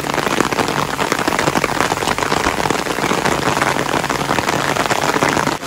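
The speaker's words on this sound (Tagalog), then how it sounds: "Lakas ng ulan." Heavy rain pours down on a pineapple farm, a dense, loud, continuous patter and hiss of drops striking surfaces close by, steady throughout with no break.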